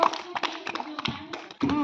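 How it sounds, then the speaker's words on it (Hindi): Hands clapping during a children's early-childhood group activity: a series of sharp, uneven claps close by, mixed with children's and adults' voices talking over them. "ताली मार दियो ताली मार दियो"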